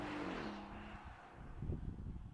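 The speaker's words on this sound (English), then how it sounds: "you do get to hear the rumble of that amazing V8" A Porsche Cayenne Turbo E-Hybrid's V8 engine heard from inside the insulated cabin, first a low droning tone that drops in pitch, then a muffled, pulsing rumble that swells again near the end.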